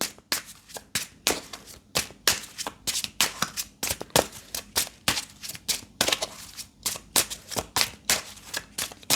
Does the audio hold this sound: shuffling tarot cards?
yes